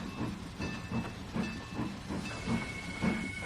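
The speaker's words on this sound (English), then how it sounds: "There's the steam whistle, I think, coming back down." Steam locomotive in the Trainz 2019 rail simulator on the C&O Hinton route: rhythmic chuffing and hissing steam, with a thin whistle tone that sounds intermittently and then holds, fairly faint and without voices.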